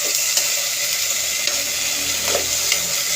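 A vegetable sauté for ginisang gulay sizzles steadily in a pan while being stirred, with a few soft utensil scrapes over the constant frying hiss.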